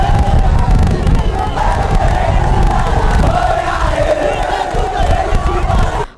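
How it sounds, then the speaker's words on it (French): Jubilant crowd gathered at Ndjili international airport to welcome the prime minister and his wife, a dense, loud wash of cheering voices and shouts sustained throughout without pause. "où une foule en liesse l'attendait"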